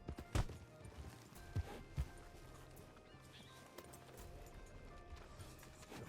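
Horse hooves thud in a western roleplay video game as a rider dismounts: a few sparse, moderately loud hoof clops over a low game ambience, with no talk.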